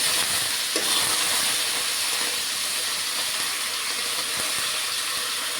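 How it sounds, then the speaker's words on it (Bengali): Mustard seeds and curry leaves sizzling in hot oil for dal, a steady bright hiss and crackle that stays close and even throughout, with a few faint pops. "একটু আলু সর্ষে দিয়ে দিলাম, কয়েকটা ধুয়ে রেখেছি কারি পাতা সেটাও দিয়ে দিলাম।"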